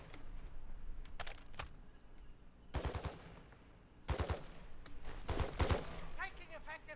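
Automatic gunfire in Call of Duty DMZ Warzone, several short bursts of rapid shots spread across the scene, fairly distant and muted, with quieter background noise between volleys.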